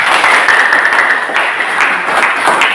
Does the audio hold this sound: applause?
yes